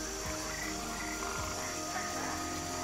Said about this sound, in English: They could be poison dart frogs and they will not turn into a prince.